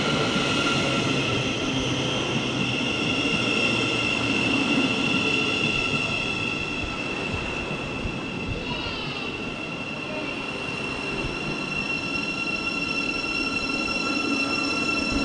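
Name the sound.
Thameslink Class 700 train to St Albans City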